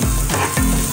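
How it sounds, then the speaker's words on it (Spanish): Homemade Mexican-style spaghetti with ham fries in a pan, a loud, close, continuous sizzle with stirring scrapes and no talking. "Se va a ir friendo todo."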